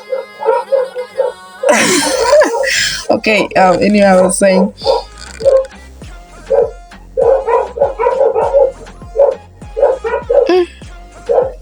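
Several dogs bark and yip in quick, repeated bursts, some whimpering, loud and close, with a person talking partway through.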